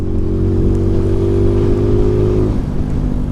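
A Sinnis Apache SMR 125 motorcycle pulls away with a loud, steady engine drone that rises in pitch, then eases off near the end, heard close with no talk.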